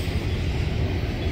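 A departing train at Winslow's La Posada, a low continuous rumble of rolling wheels and engine, steady and fairly close, with no voices.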